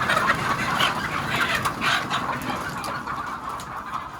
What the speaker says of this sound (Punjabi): ਕੁਝ ਮੁਰਗੀਆਂ ਇਸ ਵਕਤ ਵੀ ਮੌਜੂਦ ਨੇ ਅੰਡੇ ਦੇਣ ਵਾਸਤੇ